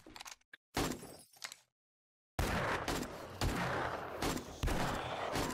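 Gunfire while shooting zombies in 7 Days to Die: sharp, loud shots in two bursts split by a brief silence, then sustained rapid firing with heavy impacts.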